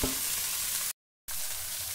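Paneer stir-fries in a pan with fried onion, carrot, cabbage, capsicum and green chilli, making a loud, even sizzle close by, broken by a short silent gap before it resumes.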